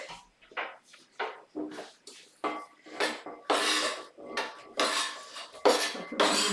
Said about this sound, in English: we're just going to put our frying pan on, and we're just going to heat that up for a little bit